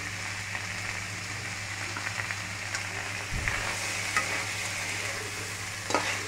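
Spice masala with turmeric and green chilli frying in a pan, a steady close sizzle and crackle with a low background hum and a few spatula scrapes, no speech.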